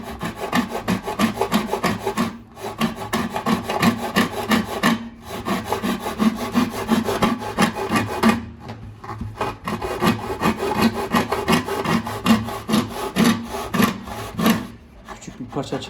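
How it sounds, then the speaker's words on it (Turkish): A hand saw rasps through the wooden top of a bağlama in steady, rhythmic strokes for several seconds, pausing briefly a few times before resuming the cutting. "Böyle kesimler yaparken kapağa doğru değil tekneye doğru birazcık testereyi yan tutmak gerekiyor."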